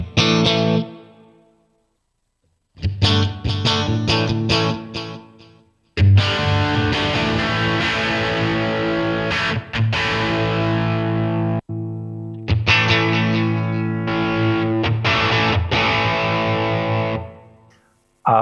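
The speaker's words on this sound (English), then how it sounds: "It's a quarter note tap, and then a reverb." Electric guitar played through a Line 6 Helix patch with a distorted amp tone, quarter-note tap delay and reverb: loud sustained chords and strummed bursts separated by short pauses, with echoing repeats and reverb tails.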